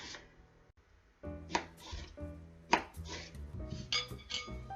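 Knife chopping cucumber on a cutting board for an avocado salad, a series of sharp knocks spaced irregularly over a background hum, with a few louder strikes.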